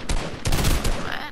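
Shots from a shooter video game, a quick burst of sharp reports packed into about a second, loud and close, with a voice talking faintly underneath.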